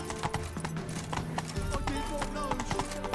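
Roach, a horse in The Witcher 3 game, gallops with a rapid, steady clip-clop of hooves close by, mixed with game music and ambience, and brief voice sounds run over the hoofbeats.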